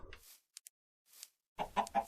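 Minecraft chickens cluck in short, sparse bursts, a few isolated blips and then a closer cluster of clucks, fairly quiet against near silence.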